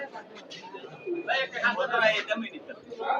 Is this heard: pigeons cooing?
yes